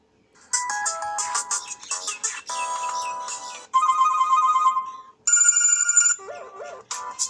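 A smartphone ringtone plays a bright electronic melody, loud and close, with several different tone patterns in turn separated by brief pauses.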